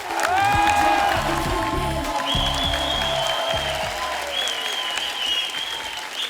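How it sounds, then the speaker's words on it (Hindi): An audience applauds steadily as a guest is welcomed onto a stage at a Hindi entertainment show, with a brief tonal musical cue, some faint cheering, and the clapping gradually thinning and fading. "मैं आप सबकी जोरदार तालियों के बीच इनवाइट करना चाहूंगा मिस्टर मनोज बाजपेयी साहब।"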